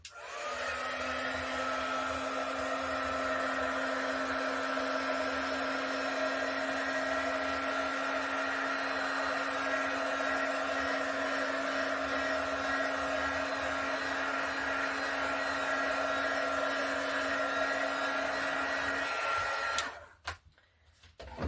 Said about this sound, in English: Now we're going to hit this with a heat gun to bring up any cells